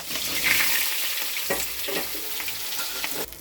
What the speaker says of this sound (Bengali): এই সেদ্ধ করা আলুগুলো এবার দিয়ে দিই